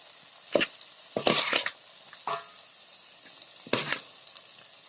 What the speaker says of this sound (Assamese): এতিয়া আমি মাংসখিনি দি দিছোঁ লোকেল চিকেনখিনি